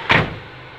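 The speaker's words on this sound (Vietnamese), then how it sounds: "Đóng cửa lại coi xem thử là cái độ cách âm nó như thế nào." A JAC 6.5-ton truck with a Cummins engine has its cab door pulled shut: one solid, close thud, followed by a short fading rattle and then a quiet cabin.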